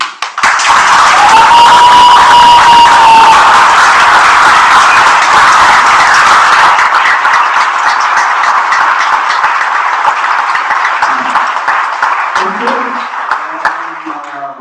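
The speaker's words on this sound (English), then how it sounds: "Let's do a round of applause as loud as you can." Loud, sustained applause from mourners at a eulogy, dense clapping filling the whole stretch close by, with a ringing tone over the first few seconds and scattered voices rising near the end.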